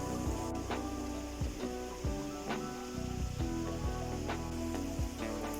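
Chopped tomato hits hot masala in a pan for tomato chicken, and a steady, loud sizzle runs throughout, punctuated by scattered pops and clinks.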